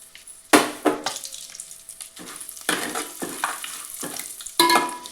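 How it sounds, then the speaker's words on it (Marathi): Whole spices (bay leaf, cinnamon, black cardamom, peppercorns and cloves) hit hot oil in bursts, each drop bringing a sharp hiss and crackle that fades before the next, close and fairly loud. "आता मी त्याच तेलात हे खडे मसाले टाकते।"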